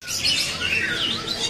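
A white-rumped shama (murai batu) sings a rapid, bright run of high whistles and chirps, close and clear, heard alone at a bird kiosk.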